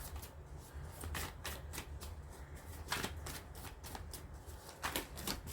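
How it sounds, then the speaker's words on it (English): A deck of tarot cards is shuffled by hand, giving repeated crisp riffling and slapping bursts at close range with a soft background hum and no talking. "but I shall still shuffle"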